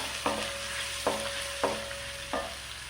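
Ginger and garlic sauté in a pan for pepper chicken curry; four distinct scraping stir strokes cut through a constant background sizzle.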